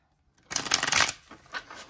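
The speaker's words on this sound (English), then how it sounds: "I recommend this deck. It shuffles really well." A small Kawaii Tarot card deck, its cards slightly bent from use, riffles in one dense burst of shuffling up close, then a few softer card flicks and slides follow.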